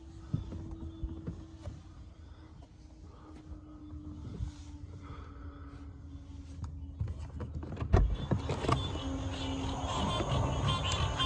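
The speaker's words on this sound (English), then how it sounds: "there's a car coming right now" A car approaches along a road near a Cracker Barrel, its engine and tire noise building from a faint rumble into a louder broadband rush toward the end, with creaks and night insects in the background.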